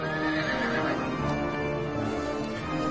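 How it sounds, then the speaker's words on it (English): Horse neighing and whinnying over the steady clatter of galloping hooves, a loud, continuous sound effect with no voices. "Horses running through my house."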